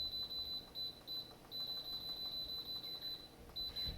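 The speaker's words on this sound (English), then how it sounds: "Sorry for the excessive beeping." Rapid high-pitched electronic beeps in bursts from an Instant Pot pressure cooker as its timer is set, steady and insistent, fairly faint with low background noise.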